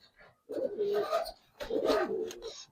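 Pigeons cooing in two sustained bursts of low, throaty, rolling calls, close and fairly loud, with brief quiet gaps between them.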